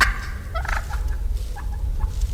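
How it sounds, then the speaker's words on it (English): Wild turkeys in spring give a mix of short, sharp clucks and soft rolling purrs, loud and close, repeating irregularly over a faint outdoor background with no talking. "So this is a combination of some clucks and purrs."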